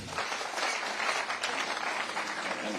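An audience at a Kenya Kwanza forum with people living with disabilities applauds, giving a steady, fairly distant wash of clapping that lasts the whole short stretch.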